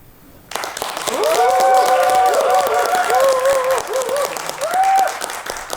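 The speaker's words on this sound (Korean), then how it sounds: "이사님 나오실 때 환호성과 함께 큰 박수로 맞아주시기 바랍니다" An audience at an in-house company assembly greets an incoming executive with loud, sustained clapping that starts abruptly. Tonal, melodic whoops or music ride over the claps, then fade near the end.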